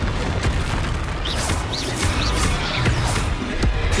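Spell impacts in the Hogwarts Legacy video game, a run of dull booms and crashing hits with brief whooshing swirls, moderately loud over a busy game backdrop, no talk.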